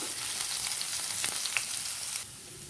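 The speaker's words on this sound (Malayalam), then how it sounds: "സവാള അരിഞ്ഞ് ചെറുതായിട്ട് അരിഞ്ഞതും കൂടി ഇട്ട് നല്ലതുപോലെ ഒന്ന് വഴറ്റിയെടുക്കാം" Chopped onion sautéing in a pan for spinach thoran, a steady close sizzle with faint stirring scrapes, no voices.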